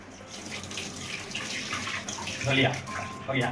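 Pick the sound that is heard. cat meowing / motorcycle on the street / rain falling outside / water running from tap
water running from tap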